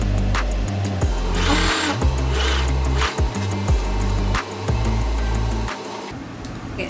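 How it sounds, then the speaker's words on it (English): A sewing machine stitches trim down the side of a hoodie, giving a steady loud mechanical whir with a few brief pauses and knocks throughout. "I'm just going to sew down the side here to attach the trim to the front"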